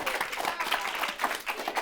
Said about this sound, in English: let's have one more round of applause for our fish, our kayaker, our kid, and our crane.